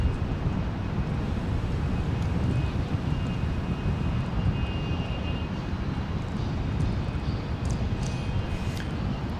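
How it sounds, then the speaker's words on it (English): A FlexJet Gulfstream G450 business jet at Dallas Love Field on a rainy day, its engines making a continuous broad roar that holds steady and loud throughout, with faint wind noise. "this is a FlexJet Flight 455 from Atlanta, Gulfstream G450"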